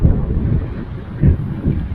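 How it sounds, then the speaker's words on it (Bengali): Strong cold wind buffets the microphone on a rocky mountain trek toward Boslo Camp on the Bali Pass route, a loud low rumbling roar that swells in gusts. "চরম ঠান্ডা হাওয়া দিচ্ছে"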